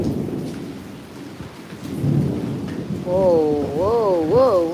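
A thunderstorm brings steady rain and a deep rumble of thunder on a rainy day, close and full, while someone talks excitedly over it.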